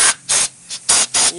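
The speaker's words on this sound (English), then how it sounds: "Spray the brakes." Fluid Film lubricant sprays from an aerosol can in four sharp hissing bursts with short gaps between, loud and close.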